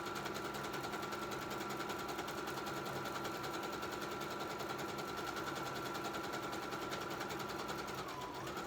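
Home sewing machine running a zigzag stitch with its speed governor removed, a fast, steady mechanical whir and rattle held at constant speed, fairly quiet and close, with no talk.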